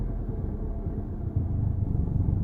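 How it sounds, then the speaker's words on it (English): Car engine idling roughly from inside the cabin, a steady low rumble with slight uneven surges, continuous and close throughout without any talking. "Car is idling funny"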